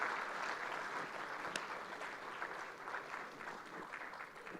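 A round of applause from the audience at an AI in finance and accounting forum inaugural session, a faint, distant, steady wash of clapping sustained for several seconds.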